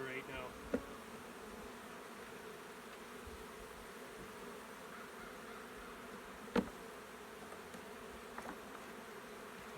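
Honey bees buzzing around a mating nuc, a constant dense hum from many insects close by, broken by two sharp knocks, with no talking.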